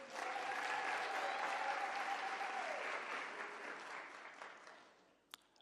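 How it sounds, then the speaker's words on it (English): An audience at a celebration and launch event claps steadily for several seconds, a dense wash of applause that gradually fades out. "Can we clap hands for them?"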